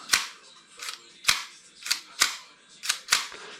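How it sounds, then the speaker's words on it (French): Airsoft pistol slide snapping forward into place on a custom level 1 build, heard as about seven sharp, close mechanical clacks spaced roughly half a second apart, with no talk. "Et là, ma culasse revient bien."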